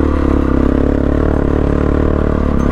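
A motorcycle ridden along a rough mountain road between Rara and Jumla in Nepal, its engine a loud, close, continuous pulsing thrum mixed with rattling clatter from the bike.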